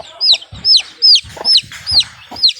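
Hens cluck in a steady series of about six close, loud calls, each a sharp rising note, with faint scratching between them.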